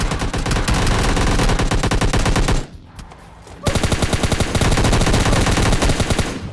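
Loud, close automatic gunfire in the battle royale game PUBG Lite, rapid sustained bursts with one short break between them, no talk.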